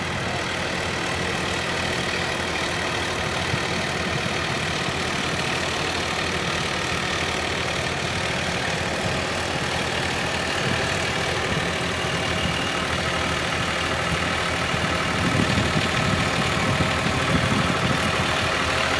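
A Massey Ferguson 7250 DI 50 HP tractor fitted with a rotavator runs at a steady, even speed. Its dense, rumbling drone stays close and constant throughout, with no talking.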